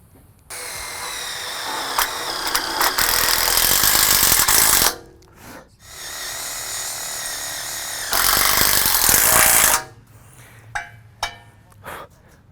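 Power drill boring into a metal shed rail and making swarf, two loud sustained bursts of grinding drilling close by, separated by a short quieter pause, followed by a few brief knocks.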